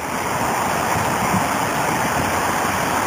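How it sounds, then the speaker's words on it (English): Water pours over a drop structure spillway on Los Gatos Creek, a loud, steady broadband roar of falling water that continues unbroken from start to finish, close by, with no voices. "And there's the waterfall,"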